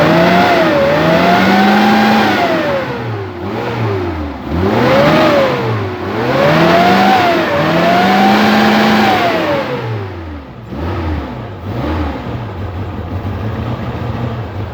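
An LPG-fuelled Suzuki Carry engine is revved repeatedly by throttle, rising and falling in several loud, close sweeps between lower idle, with no talk during the revs.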